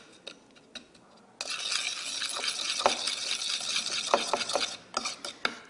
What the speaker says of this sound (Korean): 이렇게 7가지 양념을 잘 넣어서 설탕이 녹을 수 있도록 좀 저어줍니다